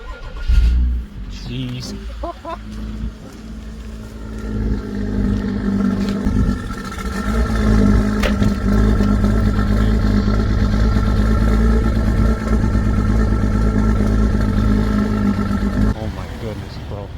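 A car engine cold-starts with a brief crank, then settles into a loud, steady running drone that holds for most of the stretch, while someone talks over it.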